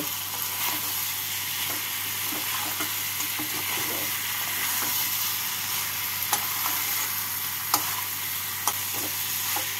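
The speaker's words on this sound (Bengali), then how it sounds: "আলুগুলোকে ভালো করে মিশিয়ে নেব।" Mutton liver and fried potatoes being stirred together in a pan, a low steady sizzle with soft scraping strokes and a few sharper clinks of the utensil, no talking.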